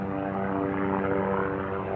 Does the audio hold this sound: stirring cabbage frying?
no